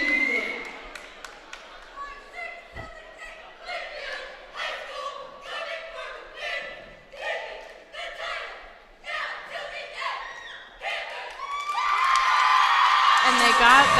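The Plainfield Panthers cheerleading team, competing at the 2023 ECC Cheerleading Championship, shout a sharp cheer in loud, rhythmic bursts of voices. A crowd then erupts into sustained cheering at the end.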